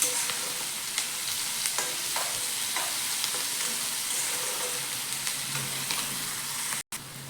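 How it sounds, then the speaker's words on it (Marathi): Onion cooks with salt in a pan, giving a continuous soft sizzle broken by scattered stirring clicks and scrapes, fairly quiet and steady, with a brief dropout near the end and no talking. "बघा आपला कांदा ना व्यवस्थित असा परतलाय"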